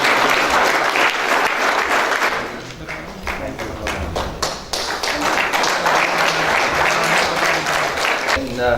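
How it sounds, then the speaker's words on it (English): An audience at a business forum valedictory session applauds Prithvi Shergill, CHRO of HCL Technologies: loud, dense clapping that fills the room throughout, dipping briefly midway before swelling again. "Let's have a round of applause, guys, for Mr."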